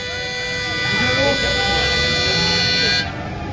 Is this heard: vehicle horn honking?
yes